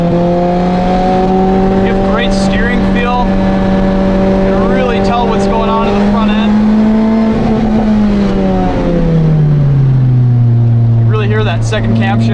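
A 2007 Lotus Exige S 220 engine revs hard and climbs in pitch from inside the cabin, steady and loud, then drops as the car shifts and builds again, with someone speaking over it.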